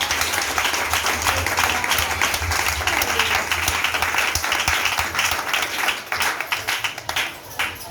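A church congregation applauds and cheers for Jesus, dense sustained clapping from a crowd at steady loudness, thinning into scattered claps near the end.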